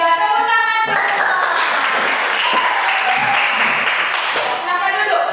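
A classroom of students applauds after their teacher's prompt, a close, loud clatter of many hands that sustains for several seconds, preceded by a short tonal ring and with voices faintly underneath.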